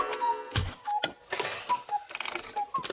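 Many clocks ticking in the workshop scene of a live-action Pinocchio film, irregular overlapping ticks and clicks with small chimes mixed in, close and busy.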